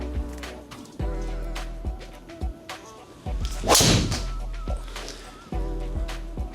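A low-spin GT4 golf driver strikes a ball: one sharp, loud impact with a brief whooshing burst partway through. A steady low hum and a few lighter knocks sit around it.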